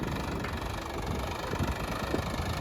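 A tractor engine idles steadily on a farm during a fertilizer-hauling job, a continuous rough, close mechanical rumble with no breaks.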